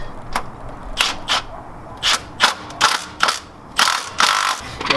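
A socket ratchet tightening a lift kit bolt on a Lexus GX470, giving bursts of sharp close clicking that come in short uneven strokes with brief pauses between, no talk.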